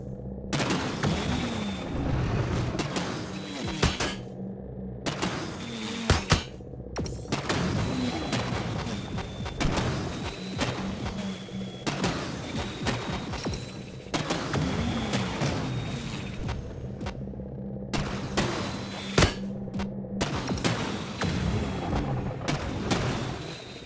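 Bursts of enemy gunfire and booming explosions from the video game Disintegration, dense and continuous with repeated sharp shots and heavy impacts throughout, fairly loud and close.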